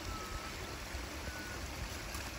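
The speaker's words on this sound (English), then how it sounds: "There's like two little waterfall places where it's running." A small stream spills over little waterfalls on rural property, giving a steady, soft rushing and trickling wash. No one speaks over it.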